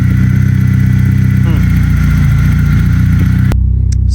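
A BMW M42 four-cylinder car engine runs at a steady idle with a light ticking, a constant low hum close by that cuts off abruptly near the end, leaving near silence.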